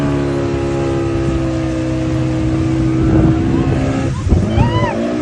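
A motorboat tows a banana boat ride on the water at Belur, its engine a steady loud drone with sloshing water, some shouting voices breaking in near the end.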